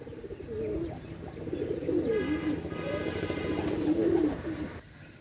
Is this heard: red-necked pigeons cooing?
yes